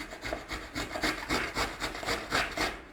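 Granny Smith apples grated with the skin on against a kitchen grater, a quick rhythmic run of about a dozen close, raspy scraping strokes.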